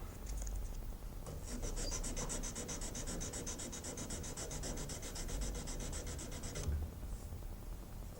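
A steel knife blade is hand sanded with abrasive paper, a steady rapid back-and-forth scratching rasp that runs continuously for several seconds, close and fairly quiet, then stops.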